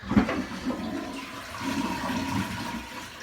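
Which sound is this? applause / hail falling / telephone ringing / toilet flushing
toilet flushing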